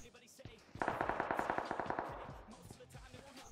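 Rapid automatic gunfire in PUBG Mobile, a fast regular burst of about fifteen shots, followed by scattered fainter shots and game noise.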